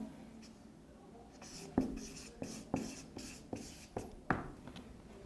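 Chalk tapping and scratching on a classroom board as a teacher writes a sentence during a Portuguese lesson, a series of sharp strokes and taps at an uneven pace, fairly quiet with a low room hum and no talk.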